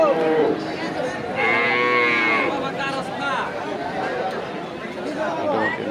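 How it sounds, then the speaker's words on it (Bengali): Sahiwal cattle and calves at a livestock market in Nandail, Mymensingh, give loud, drawn-out moos close by, rising over the crowd chatter and voices of people talking around them. "সুন্দর গরু আসছে"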